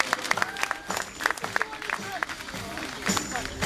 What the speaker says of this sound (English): So let's have a big clap for our next sheep now.